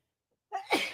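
A single sharp sneeze bursts out close by after a moment of silence.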